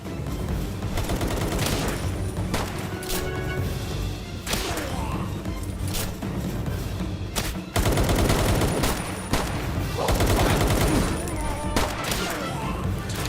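A wolf's power shot attack in the video game Palworld, heard as a dense barrage of loud gunfire-like blasts and thuds that keep going over busy game sounds, with talk faint underneath.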